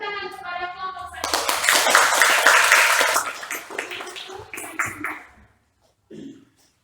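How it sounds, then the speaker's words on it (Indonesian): Classroom students giving a round of clapping for a presenting group, a burst of many hands that swells and then tapers off, with brief talk before and a short voice near the end. "Sekarang kita beri tepuk tangan kepada kelompok 1"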